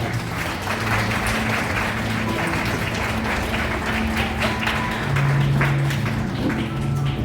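Steady applause from a crowd fills a wedding hall, dense overlapping clapping continuing throughout with a low murmur and some music underneath.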